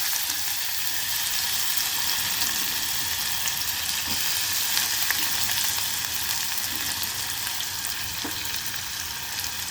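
Onions frying in hot oil with cumin and asafoetida give a steady, dense sizzle that holds evenly throughout, with a few faint clicks of stirring close by.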